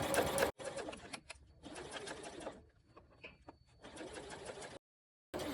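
A sewing machine stitches a zipper in place, running in several short, close, steady whirring stretches broken by brief stops and a few quiet gaps.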